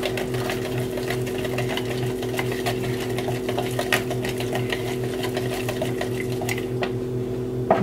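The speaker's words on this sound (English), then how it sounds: "a third cup of Bisquick, whisk together with the eggs." A whisk beats eggs and Bisquick baking mix in a bowl, with quick, steady rhythmic tapping and clatter against the bowl's sides, close and continuous.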